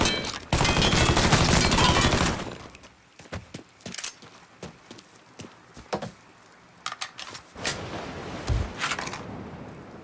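Gunfire in Mafia III: a loud sustained automatic burst, then a string of scattered sharp shots and distant pops over quieter background.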